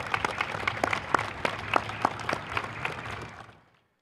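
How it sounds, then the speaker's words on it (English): Scattered, moderate applause from an audience at an army change-of-responsibility ceremony, individual claps distinct and fairly close, tapering off and cutting to silence near the end. "Can we give one more round of applause, please?"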